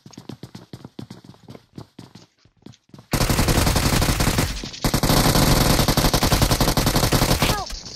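Close, quick footsteps patter in a game of BGMI (PUBG Mobile), then a loud burst of automatic gunfire erupts, breaks off briefly and resumes in a sustained, rapid rattle to the end.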